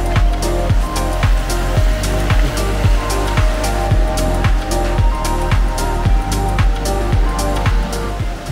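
Loud, steady surf washes onto a small beach beside a resort near Merlin Beach in Phuket, a constant close rush of water with regular sharp thumps running through it and no talking.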